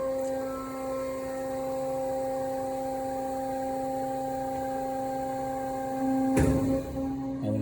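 Kennametal Extrude Hone Vector 200 abrasive flow machine running a steady tonal hydraulic hum, then a louder broadband surge near the end as the cylinders switch.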